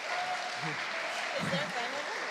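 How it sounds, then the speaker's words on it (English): Audience applause at a charity concert for Ukraine, a steady wash of clapping throughout with faint voices mixed in. "Come on, guys, we can clap."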